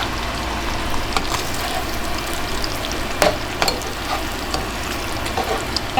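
Eggs frying in already-hot oil in a pan, a steady close crackling sizzle throughout with a few sharper pops and spits.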